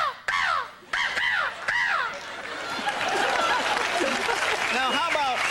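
A man imitates the caw of a crow, several harsh nasal calls in a row, loud and close, with an audience laughing and applauding around the calls on a televised talk show.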